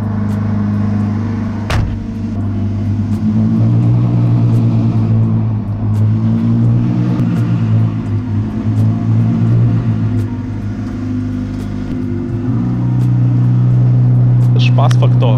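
A Ferrari 488 Challenge race car's engine runs steadily nearby, a deep, loud rumble that swells slightly midway. A person talks over it throughout.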